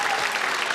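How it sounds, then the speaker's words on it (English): Comedy club audience in Belfast breaks into steady applause, a dense even wash of many hands clapping with no voices on top. "It's weird when people clap that."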